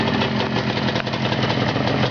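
A unique motorcycle engine, freshly rebuilt with mostly new parts and kick-started, runs close and loud with a steady rumbling idle and no pauses, no voices over it.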